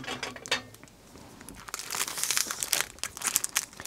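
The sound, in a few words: cutting open plastic packaging with scissors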